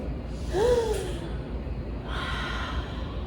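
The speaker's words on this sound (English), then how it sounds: "Take a deep breath." A close, breathy intake followed by a long slow audible exhale, soft and airy with a faint hum, part of a calming deep-breathing exercise with no words spoken.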